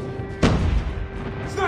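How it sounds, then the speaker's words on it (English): Airstrike explosion in the Call of Duty Mobile video game, a sudden close heavy boom with a rumbling low tail lasting about a second, amid game voices and background battle noise. "Friendly airstrike incoming."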